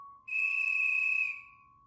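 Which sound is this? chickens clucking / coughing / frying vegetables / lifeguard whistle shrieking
lifeguard whistle shrieking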